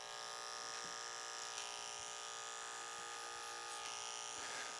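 Detachable blade hair clipper buzzing steadily through a haircut for the sides and back, a continuous close electric hum with no pauses and no voices.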